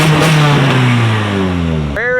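An early Nissan 240 single-cam KA engine revs hard and then lets the revs fall away in a long descending whine, with a sharp blip of revs near the end, loud and close.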